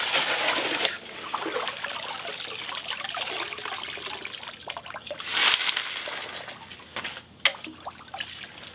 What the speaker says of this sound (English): I always wash my shovel up.